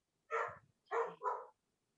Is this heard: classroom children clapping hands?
no